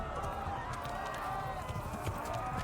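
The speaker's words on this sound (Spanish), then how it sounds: "Al galope." Galloping horse in the medieval video game Kingdom Come: Deliverance, hooves pounding in a steady run under continuous game ambience and speech.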